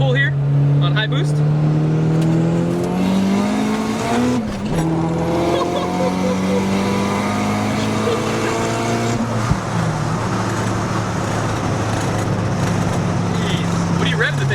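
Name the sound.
950 hp Nissan 240sx KA-T turbo engine pulling on high boost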